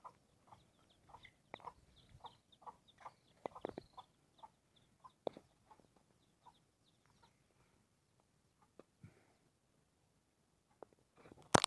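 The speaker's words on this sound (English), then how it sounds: "we have one little chicken over here, so just leave her." A single chicken clucks near a seaside spot in Jamaica, giving soft, scattered short clucks in irregular bursts with quiet gaps between them, close but faint, with no talk over them.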